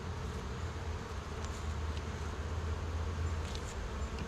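Honey bees buzzing steadily around an outdoor hive during a late-season inspection, a continuous close drone with no talk.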